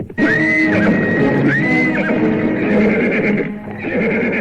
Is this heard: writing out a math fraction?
no